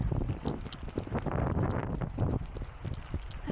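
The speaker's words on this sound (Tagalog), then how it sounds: "Sobrang lakas ng hangin." Strong wind buffets a cyclist outdoors during a gravel cycling event in Batangas City, a steady loud roar of microphone wind noise filling the whole stretch without pause.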